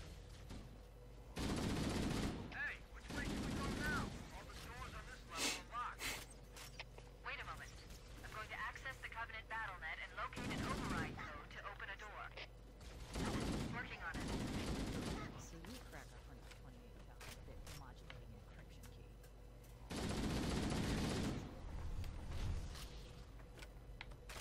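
Rapid gunfire from a weapon in Halo: Combat Evolved, coming in several loud bursts a few seconds apart over steady game background noise, with a player talking in between.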